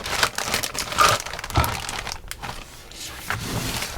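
Soft vinyl model kit box being opened, plastic wrapping crinkling and rustling in close, irregular bursts throughout.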